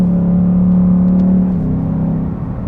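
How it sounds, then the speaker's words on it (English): Ford Mustang GT with a manual transmission, its engine droning loudly and close in a steady high rev before the pitch drops as the throttle eases off. "just want to keep it in those low gears all the time and just rev it all the way out."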